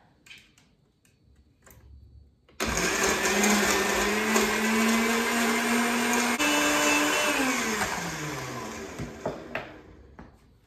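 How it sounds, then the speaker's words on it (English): Blender whirring through a smoothie at steady high speed, starting abruptly after a quiet moment and running loud and close for about seven seconds before winding down. "now we can go ahead and blend that up"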